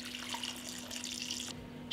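Water runs into a pot set up for canning, with a cloth on the bottom and glass jars standing inside, a steady close pouring that cuts off near the end.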